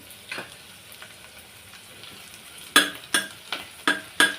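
Sliced onions being sautéed in a pan until reddish, a faint sizzle under sharper scraping strokes from a spatula, the last several stirs louder and rhythmic, no voices.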